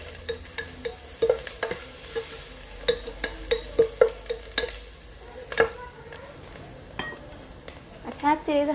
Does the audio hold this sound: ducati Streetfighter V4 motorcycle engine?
no